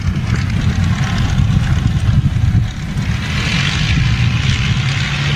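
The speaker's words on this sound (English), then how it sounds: "we get a cacophony of V12 Merlins when she comes up here and really lays it on" The V12 Merlin engines of a Lancaster bomber run on the ground, a dense, continuous low propeller drone with rough throbbing texture and faint hiss above, holding steady and fairly close throughout.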